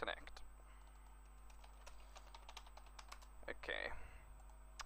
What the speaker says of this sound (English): So let me just go ahead and type that.